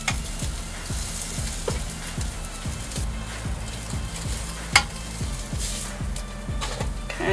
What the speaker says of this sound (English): as you can hear, we got some sizzle action